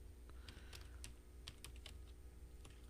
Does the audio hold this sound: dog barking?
no